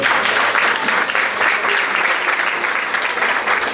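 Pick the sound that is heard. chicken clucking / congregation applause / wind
congregation applause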